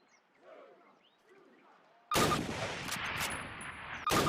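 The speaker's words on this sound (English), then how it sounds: "Grab up a Springfield rifle from the table, switching it for your carbine. Turn to the left, move to the fence, and fire 2 rounds at your target." Springfield rifle fired at a range target in the original Call of Duty, two sharp loud cracks a couple of seconds apart, each with a ringing tail, following quiet ambient chirping birds.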